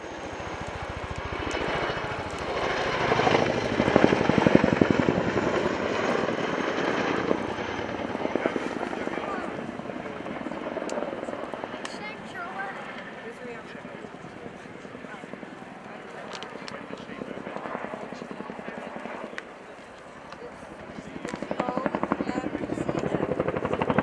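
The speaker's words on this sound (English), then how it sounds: "makes the Chinook the workhorse of the RAF support helicopter fleet" A large twin-rotor RAF Chinook helicopter thunders overhead at an airshow with heavy rotor thudding and engine whine, loud at first then easing, with a narrator talking over it.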